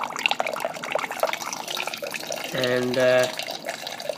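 Home-brewed beer wort running off into a vessel during a second run-off, a trickling, splashing flow of liquid under a man's brief speech, close and moderately loud.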